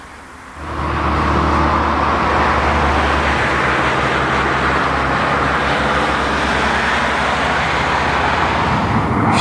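A Mazda 6 with a 1.8-litre petrol engine drives along steadily, its engine and road noise a constant loud hum from start to finish with no talking.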